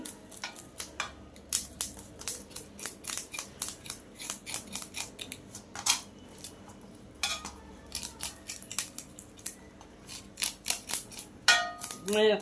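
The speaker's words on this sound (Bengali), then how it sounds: "প্রথমে আমি মাছগুলার একটা ছুরি দিয়ে আইস ছাড়িয়ে নিচ্ছি।" Hilsa fish is scaled with a knife, giving close, sharp, irregular scraping strokes in quick bursts with short gaps, plus a faint low murmur in the background.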